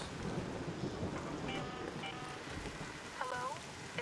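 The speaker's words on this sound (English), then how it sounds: "an electromagnetic storm is currently reaching over topside" An electromagnetic storm in the game Arc Raiders, with thunder rumbling over steady rain and gusts of wind, plus a few electronic warbles.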